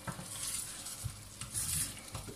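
Lazy cabbage rolls frying and sticking in a modern frying pan, with close, steady sizzling broken by stirring and scraping clatters of a utensil against the pan, and no talking.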